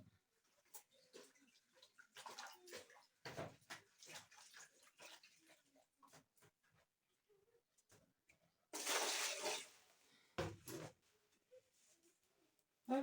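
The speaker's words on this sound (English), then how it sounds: "let me wash my hands first" Water runs and splashes briefly as hands are washed in a village kitchen in Kenya, a loud burst of flowing water between quieter kitchen clatter and movement.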